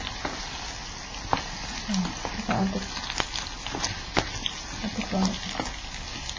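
Potatoes sizzle in a pan on an electric stove while a spatula stirs them, sending scrapes and light clacks over a steady frying hiss, and a voice speaks briefly.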